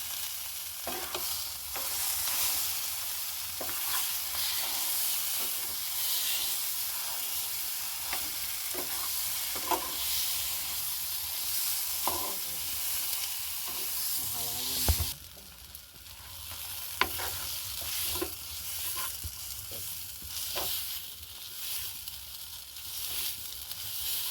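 Potato fries in a pan for aloo paratha, a quiet continuous sizzle and crackle with scattered stirring clicks and a brief clatter partway through.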